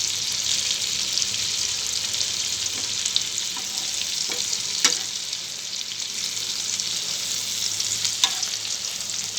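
Masala paste–coated fish pieces fry in oil with a steady, dense sizzle that stays loud and close throughout, with a few faint clinks and stirring sounds along the way.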